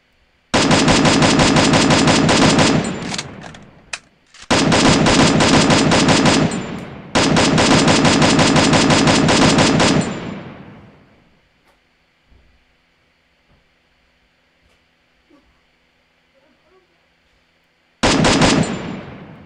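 Long, loud automatic gunfire bursts in Free Fire, three sustained streams of rapid shots separated by brief pauses, then near silence with faint clicks before another burst starts at the end.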